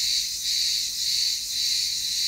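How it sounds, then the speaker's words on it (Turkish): Crickets chirp steadily in a rural village during an outdoor breakfast, a dense, continuous high trill with no voices, close and even. "Cırcır böcekli müziğimiz de var."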